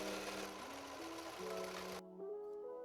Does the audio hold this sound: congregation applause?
no